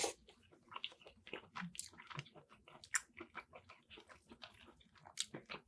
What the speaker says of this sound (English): That's what chewing this cheese is making,